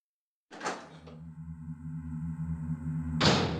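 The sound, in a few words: door opening in Resident Evil video game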